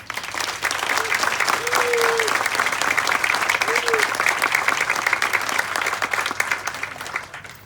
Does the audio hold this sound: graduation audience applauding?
yes